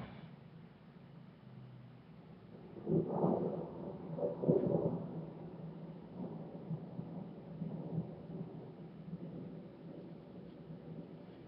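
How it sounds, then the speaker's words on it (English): Thunder from a thunderstorm rumbles in two strong rolls a few seconds apart, then keeps grumbling more softly over a steady wash of rain-like noise. No voices are heard. "There's the lightning, here comes the thunder."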